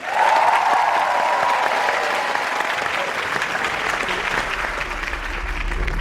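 Sustained, loud applause from a school assembly greeting the opposition debating team, a dense crowd of clapping hands holding steady for several seconds with a low rumble creeping in near the end.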